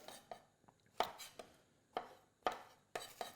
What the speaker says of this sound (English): We're going to just chop down the strawberries